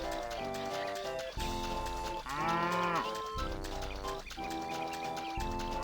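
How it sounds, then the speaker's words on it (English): A cow moos, its drawn-out lowing rising out of a steady, layered tonal background that runs the whole time, with no talking. "I heard a cow."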